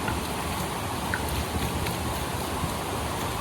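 Water rushes out of a pipe in a steady, continuous splashing stream at close range with no talking.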